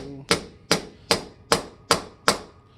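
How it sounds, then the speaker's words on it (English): A small hammer drives a button cap into aluminum armor: six sharp metallic strikes in an even rhythm, loud and close, with a brief voice at the very start. "it does not take much effort to hammer this in. This is a small hammer."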